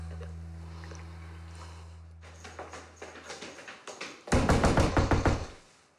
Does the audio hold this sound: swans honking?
no